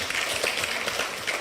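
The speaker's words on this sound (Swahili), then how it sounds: "Makofi tafadhali." Audience applause at a live public campaign event, a steady wash of many hands clapping at a moderate distance, continuous through the moment.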